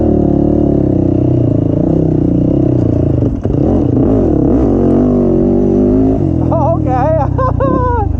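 A Yamaha YFZ450 ATV engine on a weak battery cranks and runs with a loud, steady rough idle and revving throughout, briefly dipping midway, with rising whining tones near the end.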